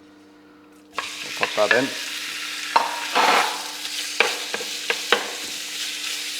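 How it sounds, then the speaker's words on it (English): Diced beef hits a frying pan with a tablespoon of olive oil, breaking into a steady close sizzle with scraping stirring strokes and clinks throughout; one voice speaks briefly at the start. "we're going to start off by frying up the diced beef first"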